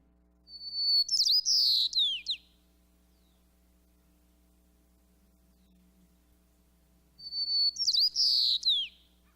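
A white-crowned sparrow sings twice in a summer farm garden, each song a bright, sharp phrase of whistles and buzzy trills lasting about two seconds, separated by a long silence over a faint electrical hum.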